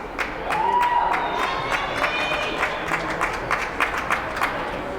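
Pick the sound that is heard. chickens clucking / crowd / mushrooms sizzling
crowd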